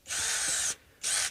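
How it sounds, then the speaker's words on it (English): A power drill fitted with a countersink bit whines in two bursts, a long one of under a second and a shorter one after a brief pause, close and loud with no talk. "We can use first a countersink"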